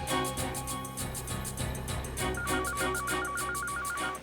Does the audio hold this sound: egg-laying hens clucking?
no